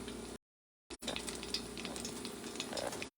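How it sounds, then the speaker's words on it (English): Food frying in a pan gives a close, crackling sizzle with dense spitting pops, briefly cut off near the start before resuming steadily to the end. "See them sizzling."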